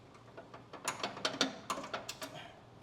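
A metal clip is pulled down off the center hanger of a Husqvarna YTH18542 lawn tractor mower deck, giving a quick series of small ratcheting clicks and clanks, close and fairly faint, with no talk.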